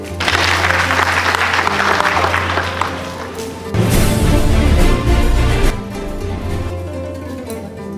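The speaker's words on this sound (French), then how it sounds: "Applaudissez-les, s'il vous plaît." Audience at a university quarter-final competition applauding in a hall, sustained loud clapping with a surge in the middle and some crowd noise mixed in.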